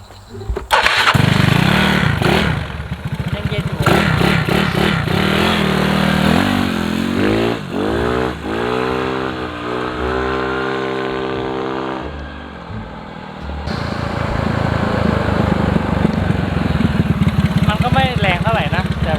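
Yamaha Mio scooter with an aftermarket starter motor starting on the first try and running, close and loud, with revving whines sweeping up and down and someone talking over it.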